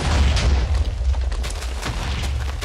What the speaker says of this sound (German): du musst so schnell TNT bauen, dass es immer weiter explodiert